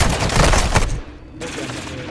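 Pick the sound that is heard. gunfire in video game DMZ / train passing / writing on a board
gunfire in video game DMZ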